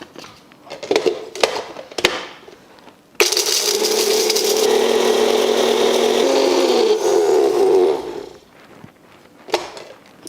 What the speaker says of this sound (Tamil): பெரிய பட்டை இது போடுமா இதை வந்து இதில் போட்டு அரைக்கிறேன்